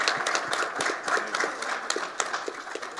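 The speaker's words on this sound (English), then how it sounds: "My man, can you clap it up for Parker?" A room of people claps steadily for Parker at a Colorado fall sports media day, a dense patter of hand claps at even loudness throughout, with no voices over it.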